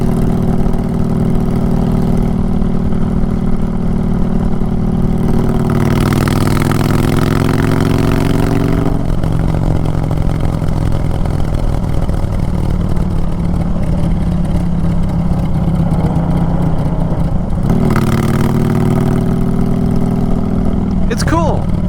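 A 2022 Honda Fury motorcycle engine idles near and loud, then revs up in two rising and falling bursts, with a person talking over parts of it.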